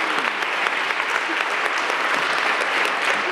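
A city council meeting audience claps in a brisk, dense round of applause, loud and sustained across the short stretch with no speech over it.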